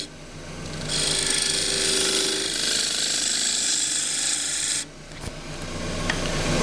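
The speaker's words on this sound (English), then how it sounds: "So 1/2 inch spindle gouge to just make a simple bowl." A half-inch spindle gouge cuts a small wooden bowl on a lathe, giving a steady, loud hissing shave that runs unbroken for about four seconds. It then breaks off abruptly, followed by a brief tap and the lathe's quieter running hum.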